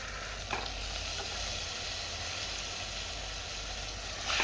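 Chicken pieces sizzling and frying in a pan of spiced masala with garlic-ginger paste for a chicken curry, a steady close crackle throughout with a brief stirring scrape, no voices.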